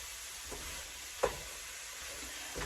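Steady sizzling of sausage and cauliflower rice frying in a pan, with a few soft stirring scrapes and one brief louder clatter.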